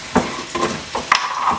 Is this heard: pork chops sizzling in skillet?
yes